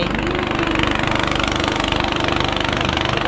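A boat's engine chugs steadily with a rhythmic low throb as the boat pulls away on the Ou River in northern Laos, loud and close throughout with no pause.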